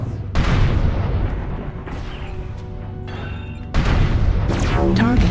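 Heavy explosive booms and crashing impacts as a battle mech is shot down and destroyed in Mechwarrior Online, loud bursts with debris and ringing tails, a second big blast near the end.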